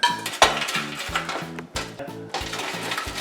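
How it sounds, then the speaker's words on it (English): Couscous salad being tossed and stirred in a bowl, with repeated clinks and scrapes of a utensil against the dish in a steady, uneven rhythm, close and moderately loud, no talking. "Now all we do is we just combine everything together and mix it in the bowl."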